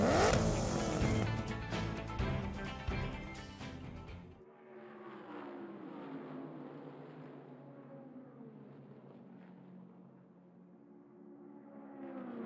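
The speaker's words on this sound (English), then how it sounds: "time to fire up my engine" A car engine fires up and revs in the Cars 3 racing video game on Wii U, a steady synthetic engine drone following a dense burst of game sound, fairly loud throughout.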